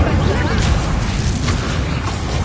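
Fiery whooshing burst of the Incendio spell in Hogwarts Legacy, a dense roaring rumble with a few sharper flares, loud and sustained.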